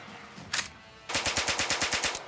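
Gunshots recorded at a firing range for game sound effects: one sharp report, a pause, then a rapid burst of about ten evenly spaced automatic shots, loud and close with no voices.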